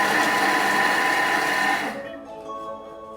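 A Thermomix food processor whirs loudly at speed 5 for about two seconds of steady high-pitched motor blending, then winds down as the blades slow to a stop.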